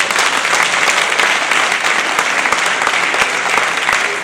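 Loud, dense applause from an audience at an association's inauguration evening welcoming a guest, sustained and even throughout with no pauses, close and filling the room.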